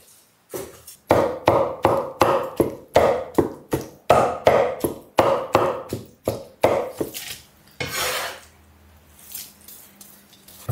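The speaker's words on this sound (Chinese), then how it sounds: "我们接下来把那个猪头肉给它切成皮儿哈，也就是稍微给它剁的碎一些" A cleaver chops pig's head meat finely on a board, with a long run of loud, close, evenly spaced thuds. A short rustling scrape follows, then a pause and one last knock.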